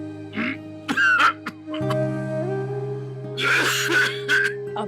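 A man coughs and clears his throat in a home, a few harsh hacking bursts near the start and more near the end, over a steady background hum of music.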